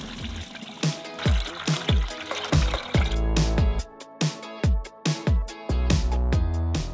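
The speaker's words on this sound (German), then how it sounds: "Denn ich möchte die Brennnesseljauche endlich filtern, damit ich die auch benutzen kann." Liquid nettle manure, left to steep for about two weeks, is strained through a filter in a series of close, wet gurgles, splashes and squishy pours, with short silent gaps between bursts.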